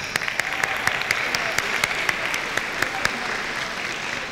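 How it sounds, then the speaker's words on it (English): Steady audience applause for pageant contestants at a university pageant, a dense wash of many hands clapping with a few sharper claps standing out, loud and continuous throughout. "please give these contestants another round of applause"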